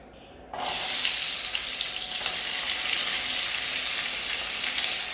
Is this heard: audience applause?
no